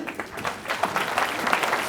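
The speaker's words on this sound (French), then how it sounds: "On peut l'applaudir." A New Year's wishes ceremony audience applauds a local butcher-delicatessen owner, giving a short, moderate burst of clapping that stays steady throughout.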